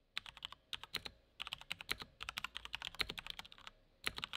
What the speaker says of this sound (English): Every time I hit the spacebar, there's a bit more feedback and a different sound